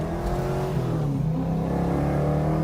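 A Ford Falcon XB GT muscle car engine revs loud and close, a deep, continuous roar with rising and falling pitch.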